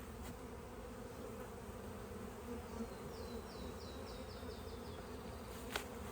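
Honeybees buzz around a ten-frame hive during a swarm transfer, a steady low drone close by with a faint rising chirp series midway and a single sharp click near the end.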